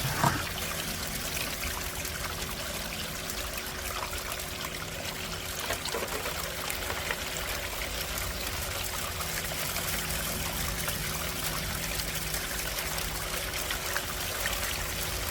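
Water runs steadily through a Geosluice California Mini High Banker gold-mining sluice, a continuous loud trickling and splashing flow with no talk.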